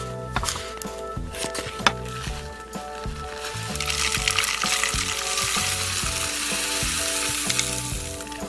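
Iron-powder contents of a cut-open disposable hand warmer are poured into a plastic bottle, a soft granular hiss that swells and runs steadily through the second half over quiet background music.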